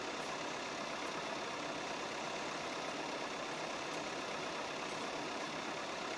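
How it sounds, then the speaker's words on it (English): A small hay baler runs steadily, its engine and turning wheels making a constant, unbroken mechanical drone at moderate distance with no speech. "All the little wheels moving. So yeah, nice little baler."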